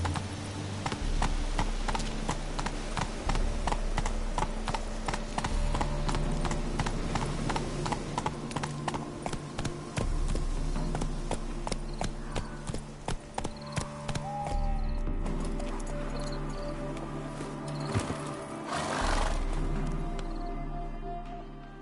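Horse hooves clip-clop in a steady, rapid rhythm as a mount gallops in The Witcher III: Wild Hunt, with a game music and ambience bed underneath and the gait shifting briefly near the end.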